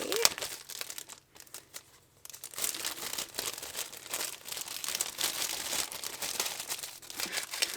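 A sticker haul package is opened, its packaging crinkling and tearing in close, soft bursts with a short quiet pause partway through.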